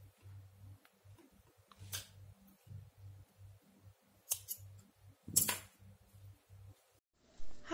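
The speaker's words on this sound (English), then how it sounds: "cut the yarn" Scissors cut crochet yarn with a few quick, close snips, which stand out over a soft repeating low thump in a quiet room.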